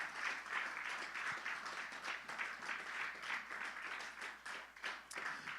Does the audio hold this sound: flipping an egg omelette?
no